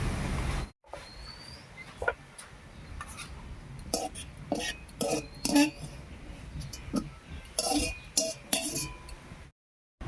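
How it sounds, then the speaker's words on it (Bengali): A lid comes off a pot of boiled taro leaves and the pot is lifted off the heat in a home kitchen, giving scattered metallic clinks and clatters over a low background, with brief silences at the start and end. "এবারে ঢাকা খুলে নামিয়ে নিচ্ছি"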